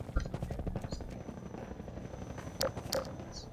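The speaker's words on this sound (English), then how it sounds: "Since you brought that chopper in on your tail, you want to maybe help us take it down?" A combat helicopter in Half-Life 2 keeps up a low rotor drone while its gun fires in bursts, with two sharp hits near the end. The sound is mid-distance, and a voice talks briefly over it.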